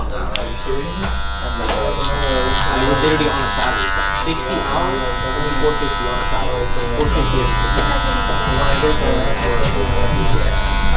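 A Wahl Magic Clip cordless hair clipper runs continuously with a steady, loud electric buzz while a person talks over it.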